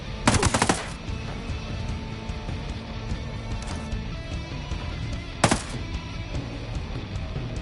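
Gunfire from the Ghost Recon Breakpoint video game: a loud burst of rapid shots near the start and another sharp burst later, with a steady game soundscape running underneath.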